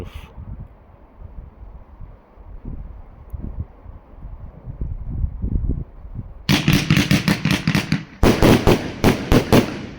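A low rumble gives way to a loud, rapid volley of sharp 30mm shots from a Jorge Tajfun JW6021 49-shot fireworks cake, cracking one after another, close by, with a brief pause mid-barrage.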